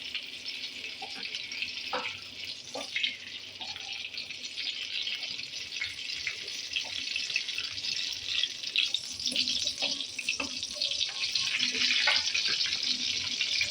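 Bay leaves and cinnamon sticks sizzle in hot refined oil in a pan, a constant close hiss that slowly grows louder, with faint clinks and taps scattered through it.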